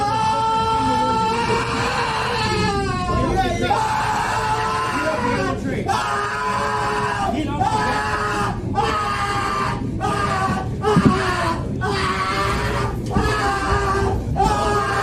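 A man screams and yells down the aisle of a moving bus, his loud, strained voice rising and breaking continuously over a low rumble and the commotion of other riders.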